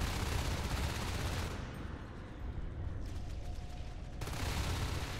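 Gunfire in the video game Natural Selection 2 during a tournament match: a dense, continuous rattle of rapid shots and noisy combat, fairly faint and blended, with the intensity dipping briefly in the middle.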